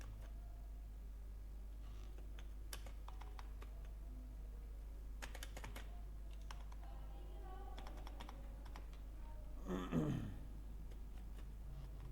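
Someone types on a computer keyboard in scattered, quick bursts of clicks over a steady low hum, with a short murmur of speech near the end.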